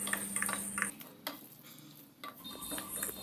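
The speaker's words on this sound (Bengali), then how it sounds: "এবার আমি ওই মাছের ডিম এর মধ্যে মিশিয়ে দিচ্ছি। সব ভালো করে মিক্স করে নিচ্ছি।" Fish roe is stirred into a cooked spice paste in a pan for a fish-egg bhuna, the spoon scraping and clattering in short bursts against the pan over a faint sizzle.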